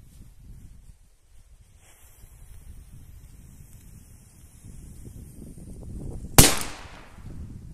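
Wind and rustling build outdoors, then a single loud, sharp bang from a whistling firecracker cracks nearby and fades quickly.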